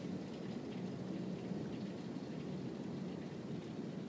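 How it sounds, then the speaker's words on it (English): Heavy rain pours down on a moving car in a constant, dense hiss, loud and unbroken throughout, with a low rumbling undertone and no voices. "There's some rain, a little bit of rain, just pouring."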